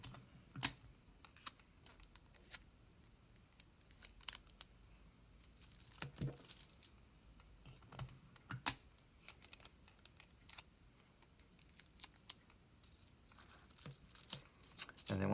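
Clear tape pulled and pressed onto aluminium foil at the corners of a pizza box solar oven, heard as close, irregular crackles, rips and taps with brief quiet gaps.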